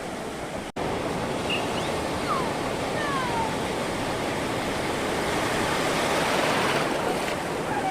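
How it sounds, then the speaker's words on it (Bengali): Ocean waves wash onto Kovalam beach in Kerala, a constant broad roar of surf with wind noise, loud and near, after a brief dropout at the start. "এই যে ঢেউগুলো আসছে"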